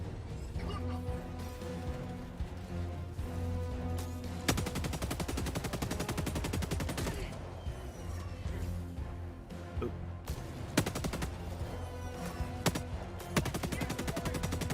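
Heavy automatic gunfire from a strafing run in Helldivers 2, with dense bursts of rapid shots and loud impacts sweeping through the whole stretch, the sharpest volleys around the middle and again near the end.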